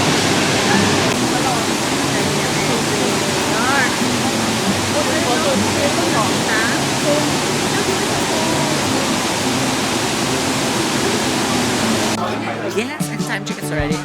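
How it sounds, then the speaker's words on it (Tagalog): Chuvanes waterfall in Taiwan roaring with a loud, continuous rushing wash of falling water, with faint voices in the background. "Yes, that's the Chuvanes waterfalls of Taiwan, comparable to the small version ng Niagara Falls nila."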